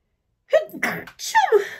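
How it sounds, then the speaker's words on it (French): A single loud sneeze, close up, with a sharp intake of breath before the burst. "Je vais éternuer."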